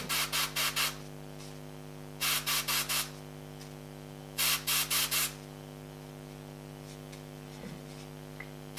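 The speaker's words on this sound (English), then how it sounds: "That's why I'm just literally spraying a dot." An airbrush sprays paint for a pet portrait in three clusters of short, sharp hissing bursts, each a quick series of four or five puffs, with quiet gaps between and no voices.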